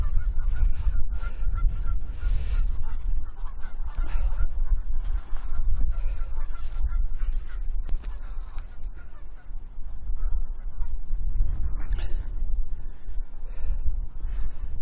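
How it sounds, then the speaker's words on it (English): Canada geese honking beside a lake at a touring park near the beach between Chapel St Leonards and Ingoldmells, with repeated calls carrying from a moderate distance over steady outdoor wind rumble and no talking. "There they are, Canadian geese."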